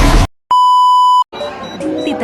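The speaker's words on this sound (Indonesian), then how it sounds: "hubungkan baterai ke fuse dan tunggu multitester bunyi" A digital multimeter's continuity buzzer gives one steady electronic beep of under a second while checking the fuse in a car horn circuit, with a brief burst of music or voice before it and background noise after.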